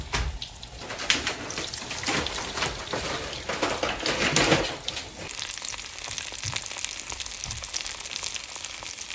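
Chicken fries in a pan with a steady, loud crackling sizzle that swells and eases, continuous throughout with no voices.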